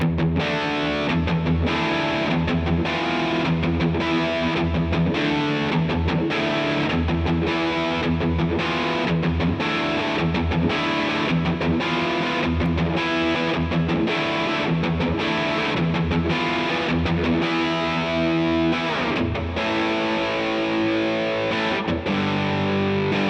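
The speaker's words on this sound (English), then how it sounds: "what we're going to be using for high gain rhythm tones today is the JHS Angry Charlie" High-gain electric guitar rhythm through a JHS Angry Charlie pedal set at noon into a Fender Deluxe Reverb amp, chugging distorted chords in a tight repeating pattern, loud and continuous, ending on a sustained ringing chord.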